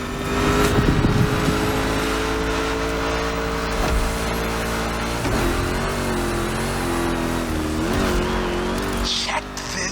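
Rally raid prepped Mustang GT racing in The Crew Motorfest, a steady loud engine drone with revs rising and falling and brief tire squeal, with a voice talking over it.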